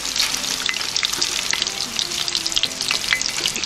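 Chicharon bulaklak pork pieces frying in hot oil, with a dense, steady sizzle and frequent sharp pops and crackles, close and loud, with no talking.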